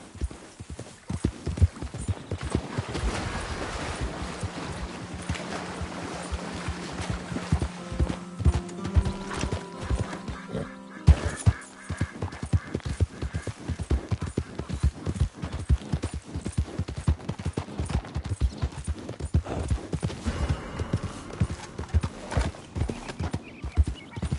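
A horse galloping in the game Red Dead Redemption 2: rapid rhythmic hoofbeats pound throughout, with a brief whinny partway, loud and close.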